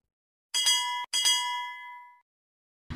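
A bright notification bell effect rings twice in quick succession, the second ding ringing out longer, loud and close with no voices.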